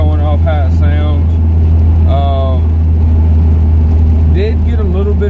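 A car engine hums at a steady idle, with a deep constant drone and brief rising revs, up close and loud.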